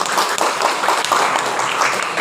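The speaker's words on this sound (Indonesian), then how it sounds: "Beri tepuk tangan dong untuk yang di depan semuanya" An audience at a university new-student orientation event in Cilegon applauds, a steady, dense wash of clapping that holds evenly throughout.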